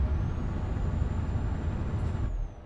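A truck's air brake releases in a loud, steady pneumatic hiss with a faint high whine over a low engine rumble, cutting off sharply after about two and a half seconds, in Euro Truck Simulator 2 with a MAN TGX EfficientLine 3.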